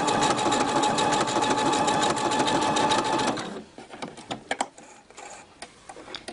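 A Pfaff Passport sewing machine runs a stretch stitch through very stretchy fabric, a loud close rapid mechanical whir that holds steady for about three seconds, then stops, leaving a few faint clicks and handling sounds.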